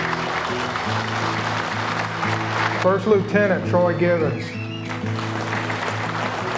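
Audience applause at a fishing tournament honoring military heroes, a steady broad wash of clapping running throughout while a voice announces names over it.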